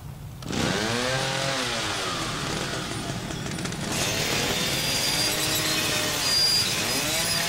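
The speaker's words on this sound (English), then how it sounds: "open this up with a chainsaw." Chainsaw cutting through an obstacle in the horror video game The Evil Within: a loud, steady engine drone that rises and falls as it revs, close and continuous throughout.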